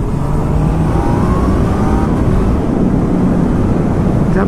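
A 2019 Honda CB1000R Plus motorcycle engine revs high while riding, a loud, steady, continuous drone with climbing tones and a rush of wind over the microphone.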